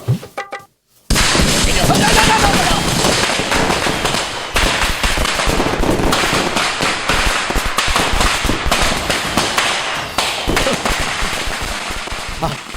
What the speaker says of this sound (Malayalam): പടക്കം പൊട്ടിച്ചു പടക്കം പൊട്ടിച്ചിട്ട് ഇങ്ങോട്ട് വരച്ചേട്ടാ